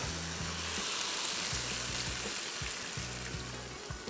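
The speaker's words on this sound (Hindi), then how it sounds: "अब इसमें शामिल करेंगे पानी तकरीबन 2 कप" Keema masala frying with about two cups of water poured in, a loud continuous broadband sizzle and hiss with low bubbling pulses running underneath throughout.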